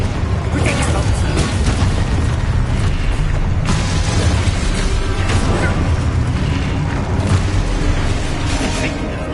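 Spell blasts from the Expulso curse in Hogwarts Legacy on PS5, a dense continuous barrage of loud booming bursts and crackling impacts layered with game noise and shouted incantations throughout.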